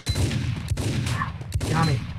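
Gunfire in the video game Max Payne: a few sharp shots cracking over a dense, rumbling game soundtrack.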